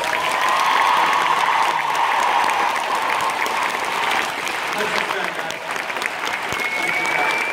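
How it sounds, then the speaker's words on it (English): A large convention audience gives a sustained round of applause, dense clapping and some cheering filling the room steadily for several seconds. "would you give them one more round of applause?"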